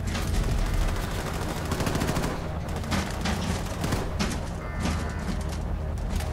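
Sustained loud gunfire in the video game Wolfenstein II: The New Colossus, with rapid overlapping shots that thin out toward the end, and no talking.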